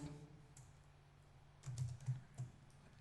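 Keys clatter on a computer keyboard while a C program is typed, a quiet near sound that is sparse at first, then a short burst of several clustered keystrokes in the second half, with no talk.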